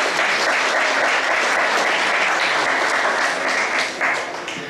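A large audience at a club's 75th jubilee celebration breaks into loud, sustained applause, a dense continuous roar of many hands clapping that barely eases over several seconds.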